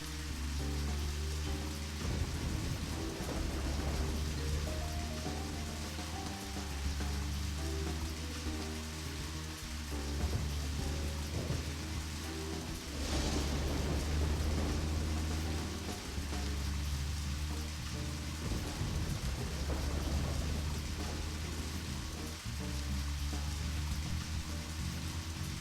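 Steady rain from a rainy small-town atmosphere in the Deadly Premonition video game, a continuous broadband wash under a low droning music bed, with no clear thunderclap standing out.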